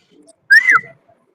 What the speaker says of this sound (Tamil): விசில் போட்டு பார்க்கலாமேன்னு பார்த்தேன் லெரின்